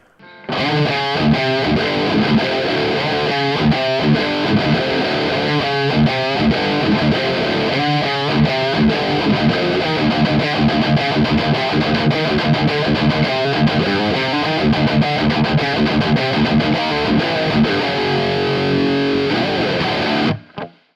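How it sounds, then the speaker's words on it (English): A heavily distorted electric guitar through a Neural DSP Quad Cortex plays a chugging riff with a roomy natural ambience reverb tail, loud and continuous throughout. "I really like this natural ambience reverb"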